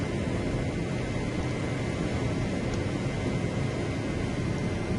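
A PC-9A training aircraft roars steadily through its takeoff roll and climb in a flight simulation, a dense, unbroken engine and air rush filling the whole stretch with no voices.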